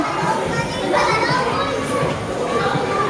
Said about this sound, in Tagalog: There are already kids having their playing time.